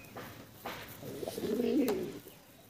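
A pair of black short-face pigeons coo softly up close, with a few faint calls building into a clearer, rolling coo in the middle before fading away.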